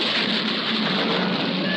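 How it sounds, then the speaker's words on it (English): Steady, dense rain pouring down, a continuous broadband hiss of drops with no pauses, fairly loud and close. "We did it. We made it rain,"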